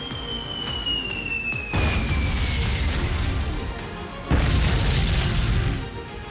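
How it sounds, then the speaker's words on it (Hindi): Bomb and explosive blasts in Lebanon, with several heavy booming bursts over a steady rumbling roar, loud and continuous, alongside a faint whine that slowly falls in pitch. "बम बारूद के धमाकों की आवाज आ रही है"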